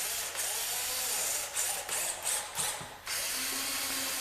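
A power drill or driver runs nearby in sustained whirring bursts with brief pauses and ratcheting, driving screws to fasten two bottom rims to the top frame of a feeder built from 1x8 wood.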